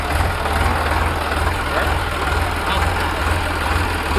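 A tractor engine idles close by with a steady low rumbling throb throughout, loud and unbroken, with a voice talking over it.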